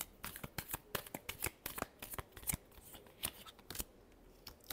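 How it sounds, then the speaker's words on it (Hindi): Tarot cards shuffled by hand in quick, irregular riffling bursts, crisp papery flicks repeating close to the microphone, quiet and without voices. "last shuffle"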